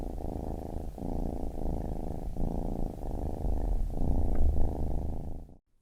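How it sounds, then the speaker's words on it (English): Steady, close domestic cat purring, a low continuous rumble pulsing in regular breath cycles for several seconds before cutting off. "a cat's purr is between 25 and 150 hertz"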